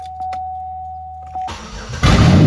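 A steady tone gives way to a poorly running Pontiac 3.4 car engine turning over and catching, then roaring louder as it revs up.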